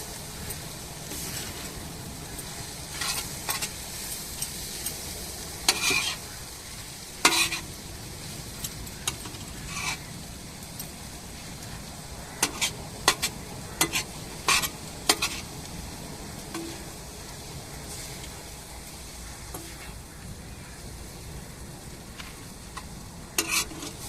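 Prawns stir-fried in a pan with coriander leaves and curry leaves, giving a steady low sizzle broken by repeated sharp scrapes and clinks of a spatula stirring against the pan, close and alone.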